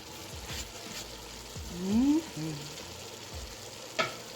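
Yellow and red peppers with three cloves of garlic sizzle quietly in a pan, with a few soft stirring scrapes and a brief louder swell midway.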